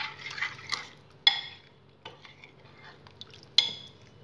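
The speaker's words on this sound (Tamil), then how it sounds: "நல்லா கலந்து விட்டுக்கலாம்." Spice powder and turmeric being stirred into tiffin sambar cooked in a microwave, a few soft spoon scrapes and clinks against the bowl, close and fairly quiet with no talk.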